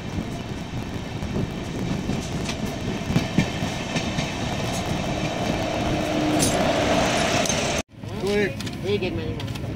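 Gomti SF Express passenger train running on the tracks toward Lucknow–New Delhi stops, a steady loud rumble and rattle with brief squeals, cut off abruptly near the end before resuming, with voices in the background.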